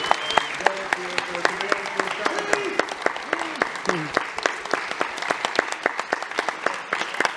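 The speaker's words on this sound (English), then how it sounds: "big round of applause and thank Carlos." Applause from a Comic Con panel audience, a dense run of claps, with voices talking and calling out over it at first before the clapping carries on alone.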